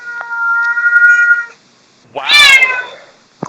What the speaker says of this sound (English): but listen to that cat!